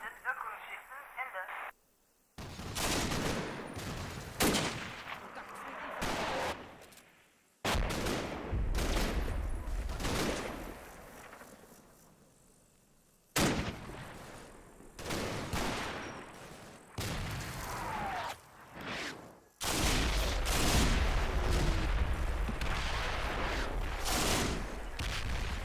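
Machine gun fire in Combat Mission, a World War II tactics game set at Bois de Baugin, with bursts from guns in a village cutting off an attack, crackling in repeated dense volleys separated by short gaps.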